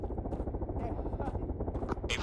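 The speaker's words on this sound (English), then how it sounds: "We have audio on helicopters to the northwest" In the Arma 3 video game a helicopter's rotor chops steadily and fairly close, a rhythmic low thumping that runs under intermittent radio-style voices.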